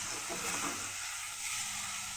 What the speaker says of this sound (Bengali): মেথি শাকটা কড়াইতে দিয়ে ভাজা হয়ে গেলে আগে থেকে কেটে এবং ভেজে রাখা বেগুনগুলো একে একে দিয়ে দেওয়া হলো